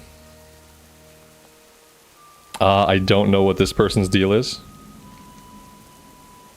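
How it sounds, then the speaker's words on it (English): Steady soft rain patters in the background in World of Warcraft's Arathi Highlands while a person talks briefly over it. "it's raining here in the Arathi Highlands today"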